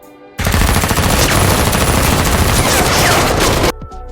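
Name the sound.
gunfire in a film scene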